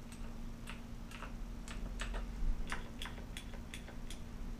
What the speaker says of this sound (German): also das ist dieses pure Klicken